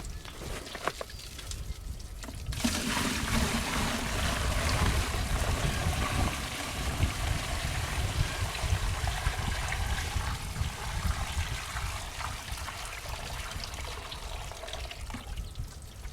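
Hot water pours steadily into a bucket for a long stretch, a continuous splashing gush with a low rumbling undertone.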